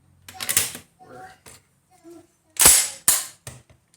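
Semi-automatic 12 gauge shotgun action being cycled by hand, crisp metallic clacks and a couple of loud sliding snaps close by, with brief speech in between.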